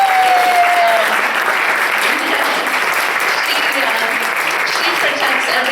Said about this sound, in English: I'd love to hear actually a round of applause for our archivist.